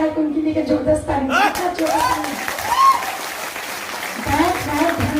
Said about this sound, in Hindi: तो हम लोग को भी बनता है कि उनके लिए जबरदस्त ताली।